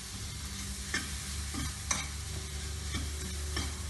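Potato sagu masala sautés in a little oil in a pan over a low flame, a quiet sizzle with repeated spoon scrapes and taps as it is stirred, and no voices.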